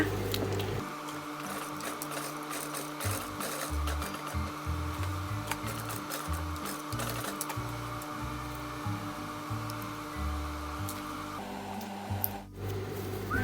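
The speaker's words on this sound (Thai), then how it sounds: "เดี๋ยวมาเย็บจีบที่เราวัดไว้เลยนะคะ" A sewing machine stitches pleats into a scout-uniform skirt being taken in at the waist, running as a steady mechanical whir for about ten seconds before stopping.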